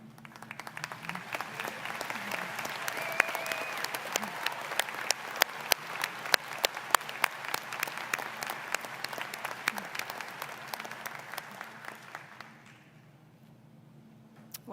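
A graduation ceremony audience applauds steadily for about twelve seconds, a dense wash of clapping with sharper individual claps, then it fades quickly to a quiet room.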